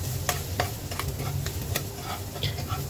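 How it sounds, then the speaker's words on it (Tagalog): Onions and garlic sautéing in a little oil for ginisang sayote: a steady, fairly quiet sizzle with sharp ticks and occasional scraping stirs, heard close with no voices. "Mag-add lang tayo ng kunting mantika para sa ating paggigisa. Ilagay na po natin yung ating sibuyas at bawang."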